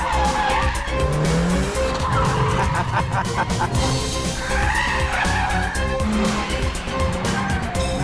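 A Peugeot 208 GTi hot hatch is driven hard through corners, tyres squealing and skidding in rising and falling howls over a strained engine note, loud and close with no talk.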